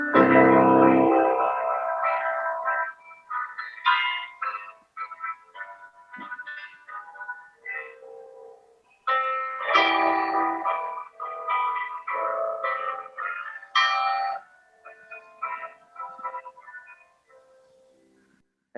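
A song's melody rendered polymorphically in bright, bell-like tones, playing as separate phrases with short gaps between them, clear and close with no voices over it.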